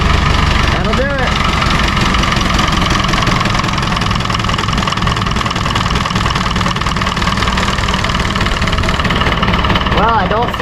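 A David Brown 990 tractor engine idles with a loud, steady low rumble throughout, close by, while a voice talks over it.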